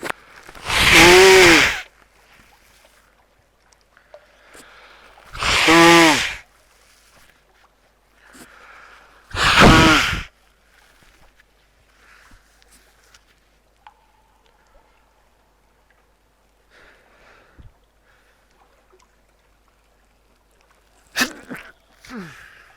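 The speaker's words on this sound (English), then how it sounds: "now that my nose is actually itching as badly as it is and making me sneeze" A person with an itchy nose sneezes three times, each sneeze loud and close, spaced a few seconds apart, followed by near silence with a faint click at the end.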